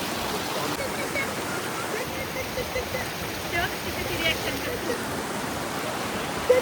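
Strong rushing stream water in heavy monsoon rain on the Daryaghat trek, a steady dense roar of flowing water that fills the whole stretch, with no voices over it.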